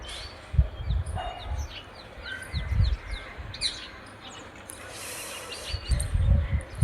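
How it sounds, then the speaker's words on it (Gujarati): Birds chirp and tweet in a quiet village, scattered high calls in the distance over soft low rumbles and faint background noise, no talking. "સાંભળો ને તો ત્યારે પશુ પક્ષીઓનો અવાજ અને શાંતિ તમને જોવા મળે."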